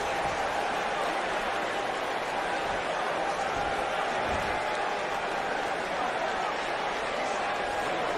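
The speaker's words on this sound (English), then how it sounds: "I don't remember the last time I heard a more passionate crowd than the one we have here tonight." A steady, roaring arena crowd fills a WWE 2K19 wrestling pay-per-view event, a constant dense wall of cheering and applause with no gaps in it.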